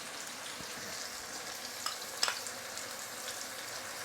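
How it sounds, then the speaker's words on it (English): Diced onions and garlic fry in hot oil in a pan for a minced meat and potato curry, giving a steady broadband sizzle throughout with a couple of brief louder crackles near the middle, no talking. "Into the oil, add 2 diced onions."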